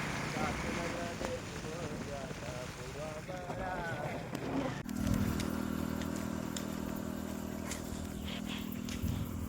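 A motorbike ridden along a rural road after rain; a person talks at first, then a steady engine drone takes over, close and even, with wind rush on the microphone.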